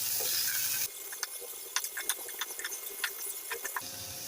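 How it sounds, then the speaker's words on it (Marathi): Onions and tomatoes fry in a pan, first a loud dense sizzle, then a quieter crackle broken by scattered taps and scrapes of stirring. "आता हे व्यवस्थित फ्राय करून घेऊया।"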